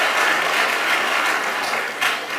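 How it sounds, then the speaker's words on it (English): An audience at a live-streamed institute event gives a round of applause, a dense, steady wash of clapping that holds for a couple of seconds without a break. "Let's give Ms. Ngonya a round of applause."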